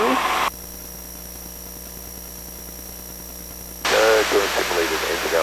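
A light aircraft's engine drones steadily from the cockpit while departing an airfield pattern near Bethel, PA, with the pilot talking over the intercom at the start and end.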